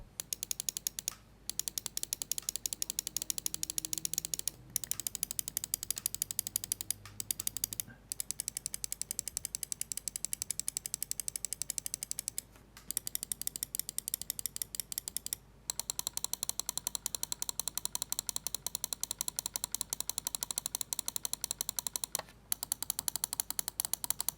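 Rapid runs of crisp, sharp clicks from the buttons of a 2E Gaming HyperDrive wireless gaming mouse, close and dry, repeating almost continuously with a few brief pauses.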